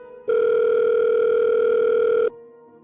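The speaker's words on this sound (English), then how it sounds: "The phone just kept ringing." A single long electronic telephone tone sounds loudly and steadily for about two seconds, then cuts off, leaving a faint quieter tone.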